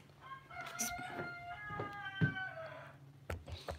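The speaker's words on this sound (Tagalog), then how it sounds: "Yung manok." A rooster crows close by in a full drawn-out call with a few shorter cackles, over a low steady background hum.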